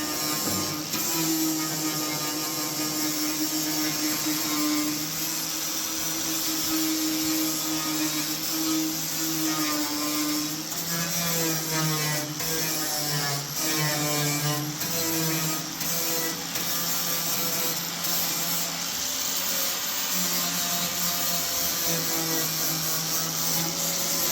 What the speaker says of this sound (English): I'm gonna go ahead and just grind the tacks off